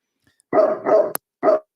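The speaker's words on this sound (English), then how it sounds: "that's not my dog this time" A dog barks three times in quick succession, close and loud, two barks running together before a short pause and a final bark, with no talking over it.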